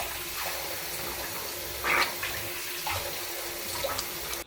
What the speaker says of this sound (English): Then I splash some cool water onto my face.